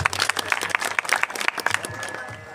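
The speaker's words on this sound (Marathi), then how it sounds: "एकदा या गायनाचार्य मंडळींसाठी टाळ्या वाजवा." Audience at a kirtan clapping for the singers, a brief burst of dense, fairly faint applause with some crowd murmur.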